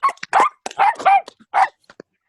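A dog barking repeatedly in loud, close, irregular bursts, several sharp barks and yips in quick succession.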